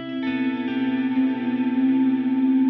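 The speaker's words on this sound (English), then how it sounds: "The last thing we have are these clean guitars. And this is like the proggiest thing ever." Clean electric guitars drenched in heavy reverb and effects play sustained, shimmering chords in a jazz rock mix, a continuous wash of ringing tones with a gentle pulsing warble, with no voices.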